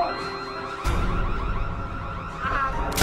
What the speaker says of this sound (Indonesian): Rupanya, suara alarm itu sangat mengganggu kakek Norman